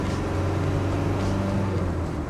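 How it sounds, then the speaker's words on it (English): The 300Tdi diesel engine of a 1998 Land Rover Defender 90 Wolf pulls off in second gear with a steady, low, throbbing drone, loud and close throughout, with no voices. "That's the great thing about the 300 TDI is that you can start off from second gear"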